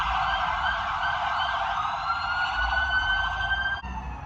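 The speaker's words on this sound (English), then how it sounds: "What is with all these sirens today?" Emergency vehicle siren wailing steadily and loudly, its pitch holding and gently sweeping as the vehicle stays close, with traffic rumble underneath.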